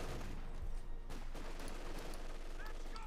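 Battle din from Company of Heroes 2 with a 6-pounder anti-tank gun firing at a Panther, a heavy report near the start over continuous combat noise, with a commentator speaking over it.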